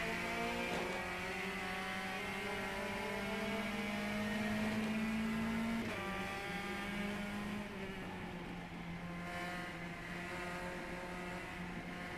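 Race car engines in the Copa Petrobras De Marcas sim racing game drone with a steady, sustained tone. Pitch shifts as the cars rev, and no one speaks over it.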